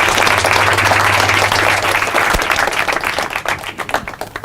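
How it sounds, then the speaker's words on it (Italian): A lecture audience in an amphitheatre applauds to welcome a speaker on machines and humanity, loud dense clapping from a large crowd that thins and fades toward the end, with a low steady hum under the first half. "diamogli un applauso"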